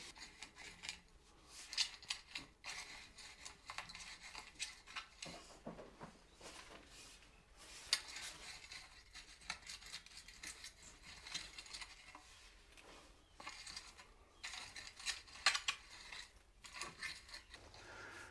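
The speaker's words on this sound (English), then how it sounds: "The first job is to just run through quickly with the hoe" A garden hoe scrapes through greenhouse soil to clear weeds before planting basil, giving quiet, intermittent rasping strokes with soft scuffs and pauses, close by and low in level, with no talking.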